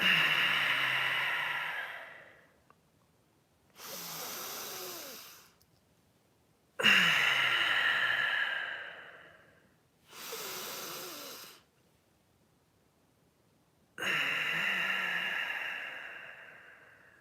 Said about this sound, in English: 3 deep and powerful breaths